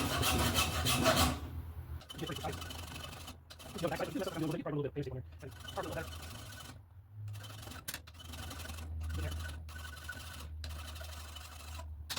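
A hand file rasps back and forth on an aluminum part of a 1972 Schwinn Super Sport bicycle, steady close strokes, with someone talking intermittently over the work.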